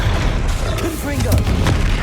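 A Confringo blast spell goes off in Hogwarts Legacy, a loud booming explosive burst with crackling rumble carrying over continuous game combat noise.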